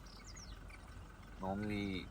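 High, twittering chirps of African wild dogs in Kruger, a few brief calls early and then a short burst of rapid chirping, fairly faint over a steady background hiss.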